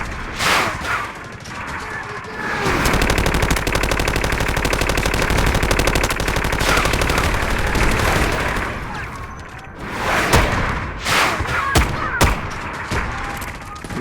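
Gunfire in the video game Delta Force, with sustained rapid automatic bursts lasting several seconds, followed by sharp separate shots and short volleys, loud and close.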